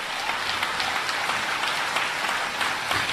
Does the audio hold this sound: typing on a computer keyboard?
no